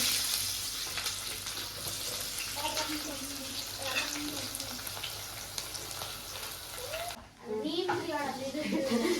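Onions frying in a pan for a crab dish, a steady close sizzle with stirring scrapes throughout, and voices talking over it.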